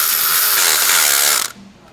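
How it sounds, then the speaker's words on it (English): Ratchet wrench clicking rapidly with a triple square 10 bit while installing the tensioner during a water pump replacement on a 2013 Jetta, a close, steady burst of ratcheting that stops abruptly, leaving quieter shop ambience. "Installing the tensioner with a triple square 10."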